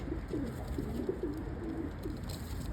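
Domestic pigeons coo close by in a loft, soft repeated rolling calls that rise and fall over a steady low background hum.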